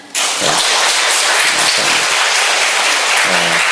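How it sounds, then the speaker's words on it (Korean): A church congregation gives loud, close applause for its choir, a thick burst of many hands clapping that starts abruptly and holds steady throughout. "라파엘 찬양대에 우리 감사의 박수 한번 하겠습니다."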